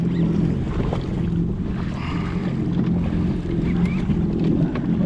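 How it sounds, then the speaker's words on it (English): A jet ski engine drones steadily on open water, out fishing with a storm approaching, the low rumble mixed with wind buffeting and splashing, continuous throughout. "I'll turn this engine off."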